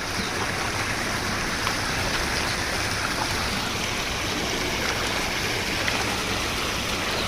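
A rain-swollen stream rushes past farmland, a dense, continuous roar of churning water that stays loud and even throughout.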